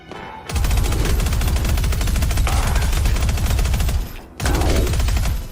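Two guns fire at once in the shooter game POSTAL: Brain Damaged, producing dense, loud rapid-fire bursts with a brief gap before the second burst.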